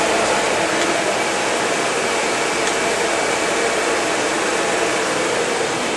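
A GEM GBM3143 glass bevelling machine runs with a steady, loud, broadband whirring hum, continuous and unchanging throughout with no talking.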